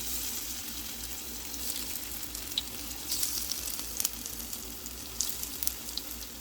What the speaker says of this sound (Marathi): तर आता आपण या दोन्ही साइडने लालसर फ्राय करून